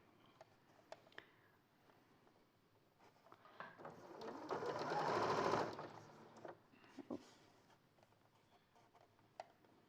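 A sewing machine runs a continuous enclosed seam through a lightweight fabric, its motor whirring up in one steady burst in the middle, with faint handling taps before and after and no voices.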